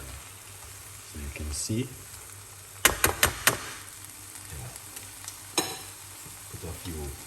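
Vegetables sautéing in a pan for a restaurant-style salmon dish, a low steady sizzle with stirring scrapes and a few sharp clinks of a utensil on the pan, while a person talks briefly.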